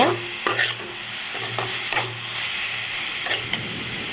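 Onions and tomatoes with salt sautéed in a pan for a Tirunelveli-style pork dish, with repeated scraping stir strokes of a spatula over a constant sizzle.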